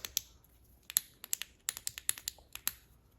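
Tail cap switch of a budget flashlight clicked repeatedly, a quick irregular series of about a dozen small, crisp, close clicks with no voices.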